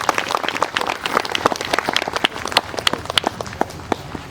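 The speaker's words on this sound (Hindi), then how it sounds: "सब ताली बजाएंगे यीशु मसीह के लिए" A church congregation claps in praise of Jesus Christ, producing dense, even applause with distinct sharp claps poking through a steady patter from a crowd that is moderately close.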